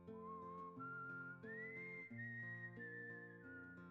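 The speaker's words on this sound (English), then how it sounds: "it's just whistling" Melodic whistling from the Wild Arms game soundtrack carries a rising and falling tune over steady instrumental backing, loud and continuous for the whole stretch.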